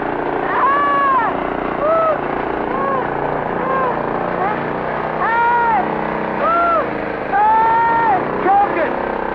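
A runaway cartoon garden machine's motor drones steadily and loudly throughout, overlaid with sliding whistle-like tones and frantic cartoon voices.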